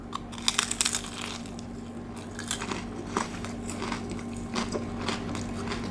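Someone bites and chews a crunchy, spicy fried lamb snack like a large wonton from a Penang street stall. Sharp, close crunches come in a quick cluster at first, then slower chewing crackles over a low background hum.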